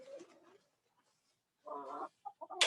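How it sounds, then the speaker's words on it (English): Hens in a small backyard flock of eleven cluck nearby in short bursts with a quiet pause between, then a louder run of clucks at the end. "We have 11 hens."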